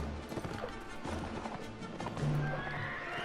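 In the Mount & Blade Warband video game, a charging horse pounds out rapid hoofbeats and lets out a whinny, with a thudding impact, all at moderate volume.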